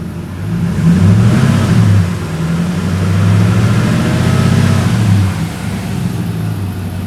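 A Dodge Ram's 5.7-litre V8, freshly started after a water pump replacement and vacuum coolant bleed, revs up twice in close, loud surges, settling between them to a steady idle rumble.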